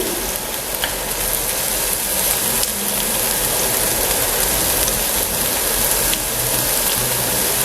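Garlic, chopped capsicum and spring onion frying in a pan, a dense steady sizzle and crackle like rain on a surface, loud and continuous throughout.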